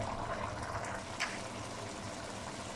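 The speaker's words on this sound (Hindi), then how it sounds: "पानी में उबाल आ गया।" Soft, steady bubbling of water simmering in a pot while cooking mutton pulao, a continuous low churning with no voices.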